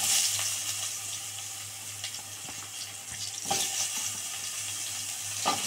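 Eggplant going into hot oil in a pan where fish was just fried, giving a soft continuous sizzle with faint clinks and a brief louder burst, fairly quiet throughout.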